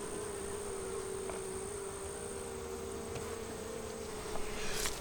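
A steady, dense buzzing drone of many honeybees fanning inside a hive, continuous and fairly close, with a faint higher whine throughout.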